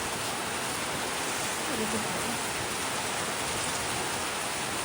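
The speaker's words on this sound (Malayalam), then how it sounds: "ഭയങ്കര കാറ്റും ഭയങ്കര ശക്തമായിട്ട് മഴ പെയ്യുന്നുണ്ടായിരുന്നു" Dense, steady rain roars without a break, a heavy wash of noise with gusty wind blended in.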